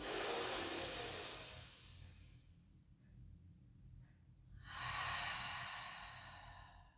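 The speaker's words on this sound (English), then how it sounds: "One more deep breath in." A deep breath drawn in during a Pilates stretch, then released, a soft airy rush at the start that fades to near quiet before a second breathy swell returns, close and gentle.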